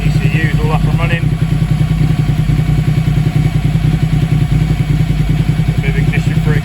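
A working motorcycle engine runs at a steady, loud idle close by, with a rapid even throbbing pulse and faint mechanical clatter throughout, while a voice talks briefly near the start and end.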